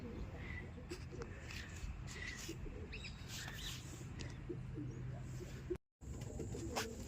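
Kept pigeons coo softly in a loft, with low repeated coos and occasional chirps under steady background noise, moderately close and faint overall, with a brief dropout near the end.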